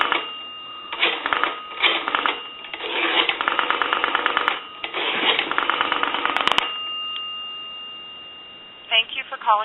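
A Western Electric 233G payphone places a call with bursts of rapid clicking and ringing tones, a steady tone between them, and a faint voice near the end, all heard over the narrow band of a phone line.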